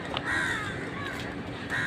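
Crows cawing near a tree outdoors, a couple of short rough caws at a moderate distance over steady low background noise.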